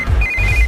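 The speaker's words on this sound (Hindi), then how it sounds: "इस वक्त दीदी का फोन। Hello madam. किशोर, कहाँ हो तुम लोग?" A phone rings with a short, steady electronic tone, close and fairly loud, over a low rumble.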